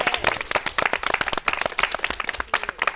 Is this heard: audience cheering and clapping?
yes